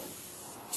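Airbrush spraying weathering paint onto a P-47 scale model, a steady, fine, close hiss of light spray held for under a second, swelling slightly at the end.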